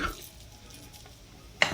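Cooked rice from an arroz con pollo being scooped out of a rice cooker, a brief soft scraping stir followed by a quick clink of a utensil against the pot.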